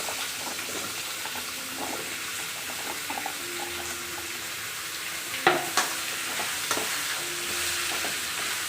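Pumpkin sautéing in a pan for a moong dal kootu, a steady soft sizzle with occasional spoon scrapes and a couple of sharper knocks near the middle, close and moderately loud.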